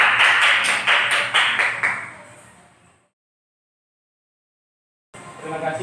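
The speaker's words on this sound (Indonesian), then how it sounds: "Tepuk tangan dulu untuk kita semua." Group applause in a classroom: brisk clapping of several people for about two seconds, fading out, then silence before room sound returns.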